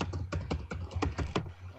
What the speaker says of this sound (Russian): кто там громко печатает, потише печатать, а? Все слышно прям в эфир.